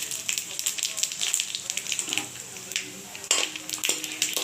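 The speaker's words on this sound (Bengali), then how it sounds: "দেখো এটাকে আমি ভালোভাবে ভেজে নেব। তো দিয়ে দিচ্ছি একটু জিরে" Cumin seeds frying in hot oil in a pan with bay leaves and dried chillies for egg khichuri, a close crackling sizzle with clinks and stirring scrapes throughout.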